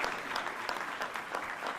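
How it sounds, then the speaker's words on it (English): Quiet, steady applause from the audience at a Philadelphia mayoral press event about a 76ers Center City arena, heard somewhat distant with a few sharper claps rising from the crowd. "you can clap for that"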